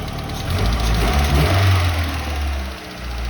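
A Nissan Bluebird engine runs with a low, steady rumble that swells briefly as it revs, then settles back toward idle, close and fairly loud, with no voices.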